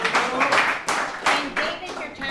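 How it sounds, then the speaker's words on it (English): Audience applause greets the main speaker at a recovery services alumni meeting, a few people clapping unevenly in an indoor room, close and moderately loud, with voices murmuring beneath. "Let's give him a round of applause."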